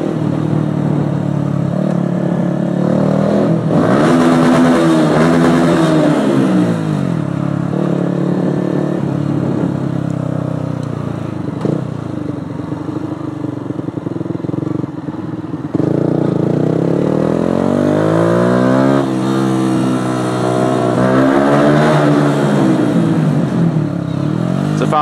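A Yamaha YZF 125 four-stroke motorcycle engine revs loudly and close, rising and falling in long sweeps over a steady rumble for the whole stretch.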